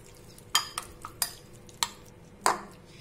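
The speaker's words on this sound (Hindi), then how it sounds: "अब इन सभी चीजों को हम इसमें अच्छे से मिक्स कर लेते हैं" Raw chicken is mixed with chili powder and salt in a bowl for fried rice: several sharp scraping clinks of a utensil against the dish, spaced irregularly and close by, with no talk.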